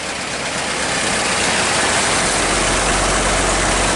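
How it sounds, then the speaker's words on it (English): A 1927 Elcar 8's straight-eight Lycoming engine runs steadily at a loud, constant level, a dense rumbling drone that deepens slightly partway through, with no voices. "It's actually an Elcar 8, so it's got a straight 8 Lycoming engine."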